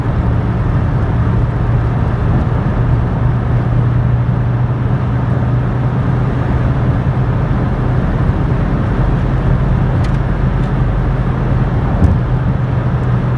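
A mk2 Vauxhall Cavalier 1.8i GLSi cruising steadily along a road, a continuous close interior drone of engine and road noise with a low steady hum and faint occasional ticks.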